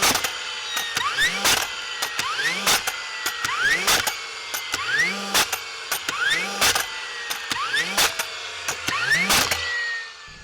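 A Milwaukee M18 Fuel cordless framing nailer driving nails in single-shot mode, loud and close, with a repeated pattern of sharp bangs about once a second, each followed by a rising whir as the drive mechanism resets, and no talk.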